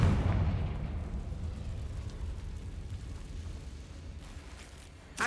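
A deep rumbling fire-spell blast from the Hogwarts Legacy video game booms loudly and decays over several seconds, with a fresh burst at the very end; no talk.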